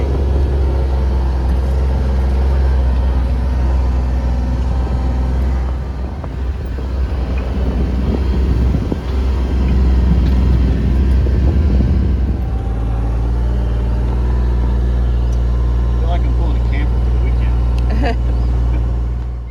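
A truck hauling a mobile chicken coop rolls down a pasture road, its loud, steady low engine rumble and road noise continuing for the whole stretch, with rattling shifts partway through.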